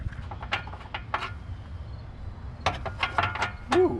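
Ratchet wrench clicking in short bursts while a Jeep's transmission mount bolts are undone, with a low mechanical rumble underneath and a louder flurry of clicks near the end.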